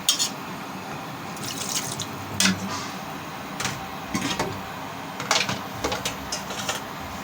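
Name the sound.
pouring water into cauliflower curry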